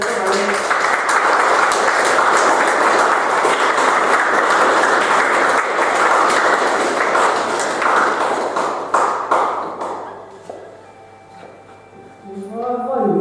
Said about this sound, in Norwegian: nå gir vi dem en skikkelig applaus for her.